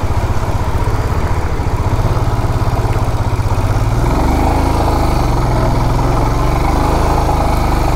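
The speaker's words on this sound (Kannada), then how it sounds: "ಬೈಕ್" Motorcycle engine chugging steadily and loud on a mountain road in North Sikkim between Gangtok and Lachung, a close, continuous low throb with no talking.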